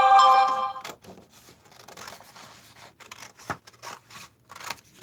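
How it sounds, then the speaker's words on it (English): Scissors snipping along a paper crease while altering a steampunk-style junk journal book, a series of soft close crisp cuts after a brief bright tone at the start, no one speaking. "So cut on the second one."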